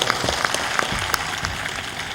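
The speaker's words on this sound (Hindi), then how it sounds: "ताली बजा दो इनके लिए जोरदार।" Audience clapping at a Hindu satsang religious gathering in Punasiya, Banka, Bihar, a short burst of dense crowd applause with sharp individual claps standing out over a steady background wash.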